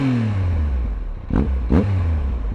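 Triumph Tiger 1215cc adventure motorcycle fitted with a standard Arrow exhaust, idling with a steady low rumble, then giving two quick throttle blips in close succession.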